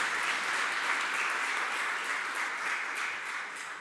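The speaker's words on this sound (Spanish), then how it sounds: "Aplauso para nuestros panelistas." Steady applause from a seminar audience at a criminal procedure reform panel in Chile, dense and even clapping that fades slightly toward the end.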